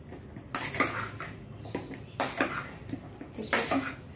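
Spiced cauliflower for gobi pakora being mixed in a bowl: three clattering bursts of utensil against the bowl, close and fairly loud, with no talking.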